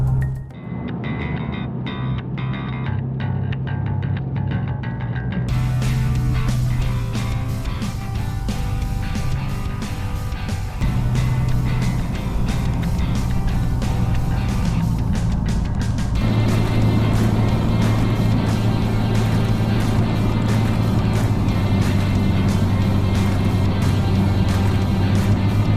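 A Nissan GT-R cruises along a forested highway on a long road trip, a steady engine drone with road and wind noise that keeps going without a break, and no one talking.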